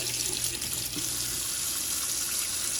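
Tap water runs steadily over the mouthpiece of a JET water pipe during rinsing, a continuous close hiss and splash at an even level throughout, with no talking.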